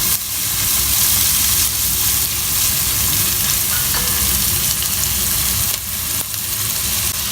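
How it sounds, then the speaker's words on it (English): Chopped red onion fries loudly in hot oil for a yogurt chicken dish, a dense continuous sizzle and hiss with a few stirring scrapes, close and steady throughout, without any speech. "At this stage, I add the chopped red onion. Stir it"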